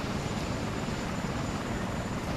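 A helicopter in the Pirate Pilot video game drones continuously with a dense, even rotor and engine roar, steady and moderately loud with no breaks.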